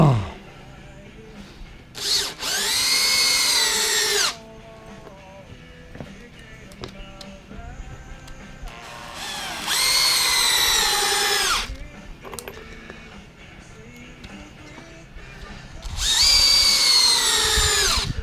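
Cordless power drill driving 3-inch deck screws into a wooden lid on a tree stump flower pot, three long whining bursts of the motor spaced apart, each revving up and running a couple of seconds, with handling clatter between.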